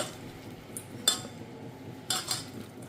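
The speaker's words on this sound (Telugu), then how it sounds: "అన్నీ కూడా ఇలా కలుపుకోవాలి మనం" A spoon stirring raw eggplant tamarind stew in a bowl, a few sharp clinks and scrapes against the side spaced about a second apart, close and fairly quiet, with no talk.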